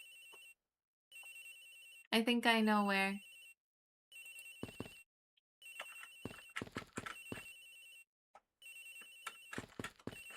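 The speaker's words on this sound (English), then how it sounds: "Agent Hick's phone is ringing from somewhere, sir." A mobile phone rings repeatedly in the video game Ace Attorney Investigations, its bright electronic ringtone coming in regular bursts separated by silences, interrupted by a character's voice blip and a person speaking.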